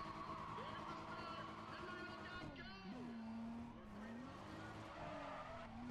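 Tires squeal in long wavering pitch sweeps as a car drifts through corners in Need for Speed ProStreet, the screech rising and falling over a steady engine drone, with a voice talking over it.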